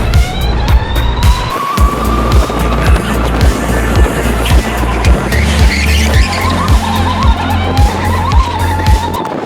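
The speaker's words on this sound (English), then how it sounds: "Did you hear just then when the motor wasn't revving out that much?" Race car engine revving hard through a lap on a circuit, loud and continuous with rising and falling pitch as the throttle opens and eases, tires squealing through corners.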